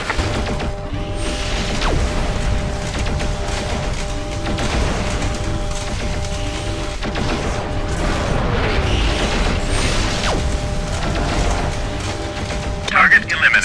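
Mech cannon and weapons fire crack and boom continuously through a swamp town battle in MechWarrior 4: Vengeance, a dense steady barrage with a low rumble and a sharper burst near the end.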